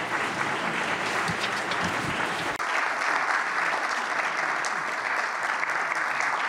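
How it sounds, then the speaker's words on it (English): A lecture audience applauds steadily and loudly in a hall for former Australian Prime Minister Scott Morrison and a chairman. The dense clapping goes on without a break. "Could we have another round of hearty applause for our two lecturers?"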